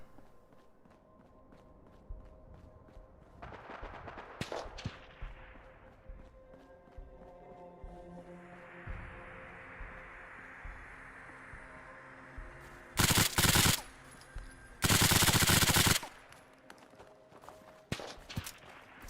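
A rapid-firing gun in the video game Fallout 4 lets off two loud, dense bursts of automatic fire near the end, after quieter footsteps and ambient game sounds.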